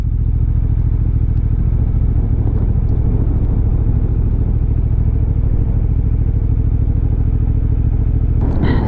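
A Honda Hornet CB750 motorcycle with an aftermarket SC exhaust rumbles steadily with a deep, throaty exhaust note, loud and close throughout as it rides along.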